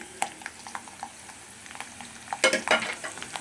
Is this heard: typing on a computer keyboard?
no